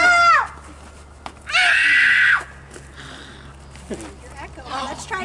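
A child screams outdoors in a park to hear an echo, two loud sustained shrieks separated by a pause, with quieter voices and talk afterward.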